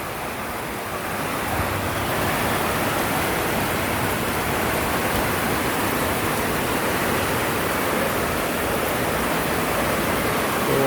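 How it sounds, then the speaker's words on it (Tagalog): Heavy, unrelenting rain beside a flooded river in Montalban, Rizal, a dense steady roar of downpour and rushing water filling the whole scene without a break. "Walang hinto. Walang humpay ang lakas ng ulan."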